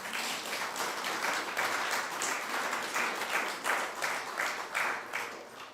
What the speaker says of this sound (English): please give us another round of applause